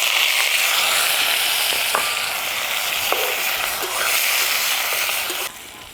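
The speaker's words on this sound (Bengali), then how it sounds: "দুটো শুকনো মরিচ মাঝে ফাল করে দিয়ে দিচ্ছি। দিয়ে দিচ্ছি সেদ্ধ করে রাখা মূলো।" Boiled radish and split dried chillies sizzle loudly in a hot pan, a continuous crackling fry with a few scraping stirs before the sizzle drops quieter at the end.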